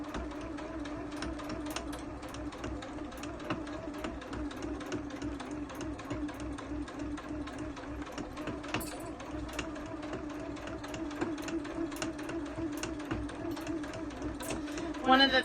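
A pedal-free sewing machine runs a standard straight stitch in a steady, fast mechanical whir with rhythmic needle ticking, close and continuous, while a person talks over it.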